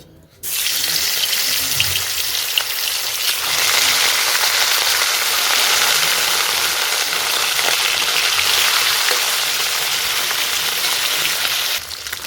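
Pieces of katla fish hiss and crackle as they go into hot oil in a pan, a loud, steady broadband sizzle that starts abruptly and holds, close and continuous, with no voices.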